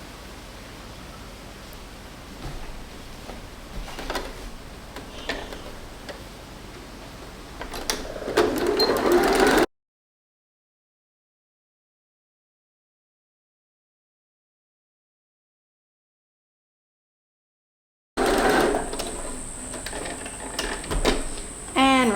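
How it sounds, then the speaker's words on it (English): A sewing machine stitches bias binding around the armholes of a baby romper, a steady close mechanical whir that stops for a stretch of silence and then starts running again. "I'm going to stitch on my bias binding."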